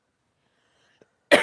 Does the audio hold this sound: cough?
yes